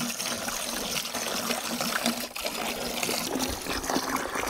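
Water mixed with bleach is poured out in a steady trickle, close and continuous, as a homemade fire ant killer.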